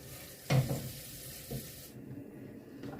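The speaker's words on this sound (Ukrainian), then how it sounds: "Ось так голубчики почали кипіти." Soft bubbling and sizzling from a pot of cabbage rolls simmering on the stove, with a couple of louder clinks or splashes over a steady simmering hiss.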